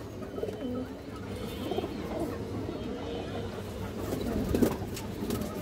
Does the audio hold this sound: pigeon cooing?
yes